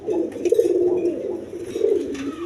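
Indian Lotan pigeons coo close by, a low, throaty rolling call that repeats, with no talk over it.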